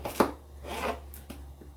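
A steak knife chops potatoes into small pieces for pierogi filling, giving a few soft, irregular knocks against a cutting board with quiet scraping between them.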